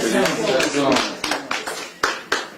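Guests at a small congratulatory drinks gathering clap, a few scattered claps under and after a speaking voice, close and moderately loud.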